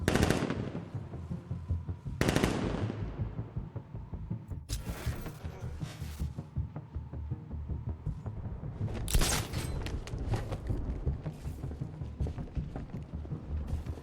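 Bursts of gunfire in the video game Batman Arkham Knight, several loud shots and short automatic volleys spaced across the stretch over a constant rumbling game backdrop.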